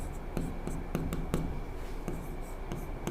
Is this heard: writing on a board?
yes